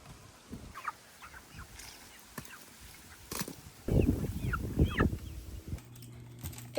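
Chickens clucking and gobbling as they are fed kitchen scraps, scattered bird calls near and far with scratching and some domestic clatter in the background.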